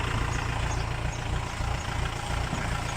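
A used Kubota tractor engine idling nearby, a steady low rumbling drone with an even, slightly pulsing texture and no talk over it.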